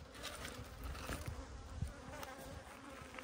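Bees buzz steadily inside an opened weak beehive, a dense, close insect hum with scattered louder passes from individual bees and no talking.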